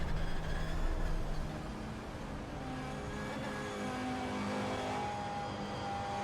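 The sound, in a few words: Audi Quattro GTO engine on the Nordschleife, racing video game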